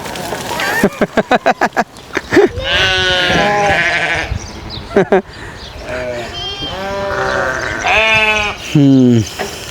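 Naimi sheep bleat loudly and repeatedly nearby on a village farm in Al-Qassim, Saudi Arabia, several overlapping wavering calls, with a rapid clatter of hooves or rattling early on and a voice mixed in.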